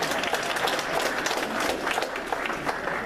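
Audience applause at a Berks County Patriots meeting with a former FBI special agent, a steady dense patter of many hands clapping throughout, moderately loud and close, with a few sharper individual claps standing out.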